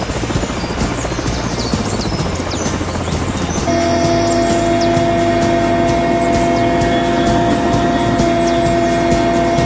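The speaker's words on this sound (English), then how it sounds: "The aircraft was captained by Wing Commander WWNTP Finando" An aircraft flies over Sri Lankan forest on an aerial seed bombing operation, its loud, steady engine and rotor drone filling the clip and growing a little stronger and more tonal partway through.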